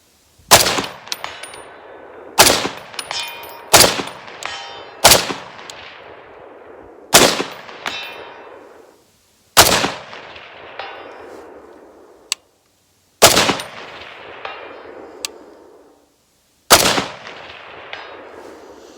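A Springfield Armory M1A Socom 16 rifle fires at steel targets outdoors, eight loud single shots spaced a couple of seconds apart, each with a sharp crack and long decaying echo.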